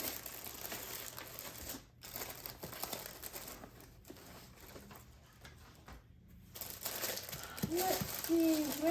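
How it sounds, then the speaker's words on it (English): Paper packaging for a jewelry order being folded and creased, a steady rustling and crinkling close by, growing louder near the end with a few brief pauses. "So then I just fold this up nice and neat."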